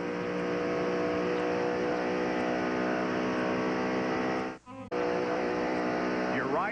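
Onboard with Jeff Gordon leading the 1996 NAPA 500 stock car race: a loud, steady, close engine roar that cuts out briefly about two-thirds of the way through, then returns at full power.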